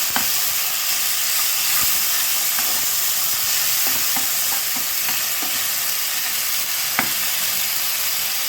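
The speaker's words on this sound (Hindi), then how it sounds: "इन सारे मसालों को हमें लो फ्लेम पे भूननी है।" Spices with ginger, garlic and coriander paste roast on a low flame for samosa filling, giving a steady close sizzle with occasional soft stirring scrapes.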